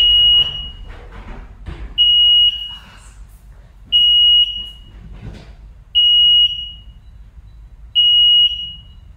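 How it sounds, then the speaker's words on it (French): An alarm system goes off in a coworking space, sounding loud, shrill electronic beeps in a steady pattern of one half-second tone every two seconds. Between the beeps there are faint rustling and movement noises. "Je vous demande 30 secondes parce qu'en fait, l'alarme s'est déclenchée."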